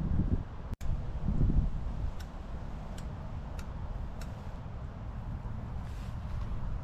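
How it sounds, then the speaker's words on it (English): Outdoor wind at a June campsite buffets the microphone with a low, uneven rumble that swells and eases, a faint rustle above it and a few light ticking taps, with no voices. "Now as the wind just starts to die down"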